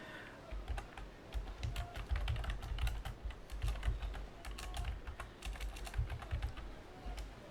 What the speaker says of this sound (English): Eventually I'll get used to typing with my mic in front of me.